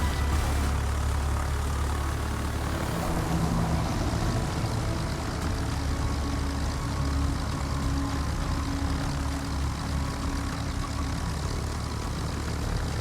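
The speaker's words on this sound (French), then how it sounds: "le premier avion que je lance, c'est l'avion mitrailleur" A propeller fighter plane engine in a naval warfare video game drones steadily throughout, a dense continuous roar with no pauses and no voices.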